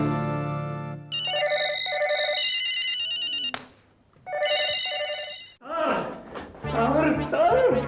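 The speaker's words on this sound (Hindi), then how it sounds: "बजते तो सारे घर में फोन की घंटियां।" Telephone bells ring throughout a house in several bursts of repeated trilling, with a thump between them, before a person begins speaking over the last stretch.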